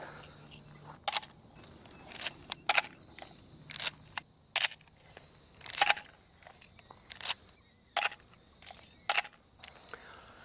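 A film SLR camera fires its shutter repeatedly, about a dozen crisp mechanical clacks at irregular intervals, each with a short whir of film advance, close up in a quiet setting.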